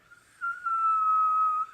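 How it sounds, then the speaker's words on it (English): A single sustained whistled note, clear and steady for about a second, against a quiet background. "Can you whistle?"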